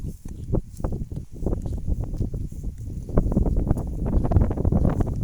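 Strong gusty wind ahead of a storm buffets the microphone outdoors in rural countryside, a steady roaring rumble with uneven thumps that grows louder toward the end, with no speech.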